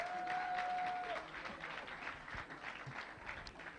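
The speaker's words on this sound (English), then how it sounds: "Please give her a round of applause again." An audience at a school ethics competition grand finale gives sustained applause, a steady wash of many hands clapping at moderate volume, with a faint tone at the start.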